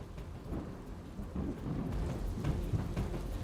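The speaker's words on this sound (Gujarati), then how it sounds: "હજુ પણ અવિરત વરસાદ પડી રહ્યો છે" Heavy monsoon rain pours steadily near Devgadh Baria on the Panam River in Dahod, a dense continuous wash of falling water with a low rumble underneath, no voices.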